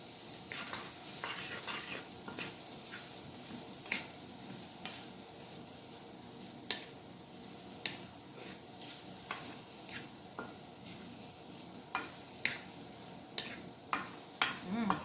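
Butter melting and sizzling in a pan for chicken tikka masala, a steady close frying hiss broken by occasional sharp crackles and stirring scrapes, with no talking.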